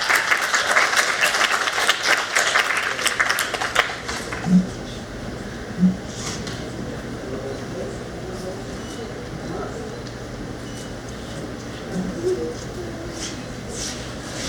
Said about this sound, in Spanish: Nos despedimos con fuertes aplausos.